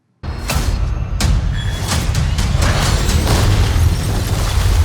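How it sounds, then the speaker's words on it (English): Explosion in a video game, a sudden heavy boom bursting in after brief silence, followed by a sustained loud rumble with crackling debris and scattered sharp pops. "An explosion, well, not the type I was thinking about."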